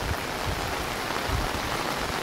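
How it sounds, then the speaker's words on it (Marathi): Steady rain falls over a village in the monsoon, a dense even hiss with soft low patter throughout, no voices. "हे पूर्ण पावसाचं वातावरण आहे।"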